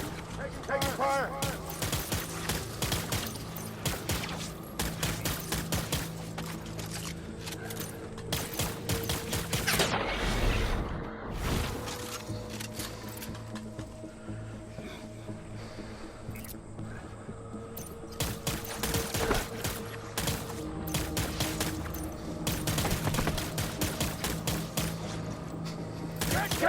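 Rapid bursts of gunfire and fusillades in the video game Death Stranding, dense repeated shots over a steady mechanical din, with voices shouting in the background throughout.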